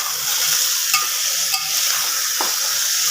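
A teaspoon of garlic paste fries in a pan over a moderate flame, a continuous soft sizzle broken by a few light scrapes of the stirring spoon, close up and with no voices.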